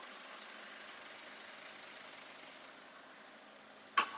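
A car engine drone during hydrogen decarbonizing cleaning holds at an even level throughout, then a short sharp burst of louder noise near the end.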